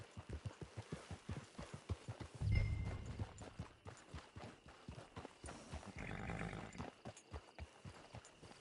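Steady clip-clop of horse hooves at a trot in Red Dead Redemption 2 Online, fairly close, with a brief snort or low rumble partway through and faint ambient noise.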